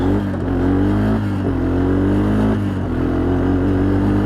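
A Honda Foreman 450ES ATV engine drones loud and close, its pitch climbing and briefly dipping at each gear change as it accelerates up through the gears.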